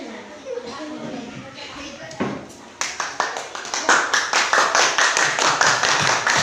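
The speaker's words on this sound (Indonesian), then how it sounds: "Tepuk tangan untuk kelompok 2" Primary-school classroom applause for a student group, starting as scattered claps under a teacher's voice, then building into steady, close, rhythmic clapping from the class.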